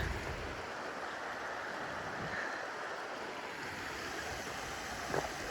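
A mountain creek in Glacier National Park rushes over rocks near a rope bridge, producing a steady broadband wash of flowing water, moderately faint and continuous, with a brief knock near the end and no speech.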